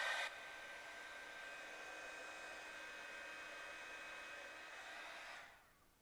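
Heat embossing tool blowing hot air over stamped cardstock, a steady hissing whir running for about five seconds before it shuts off and spins down, close and alone.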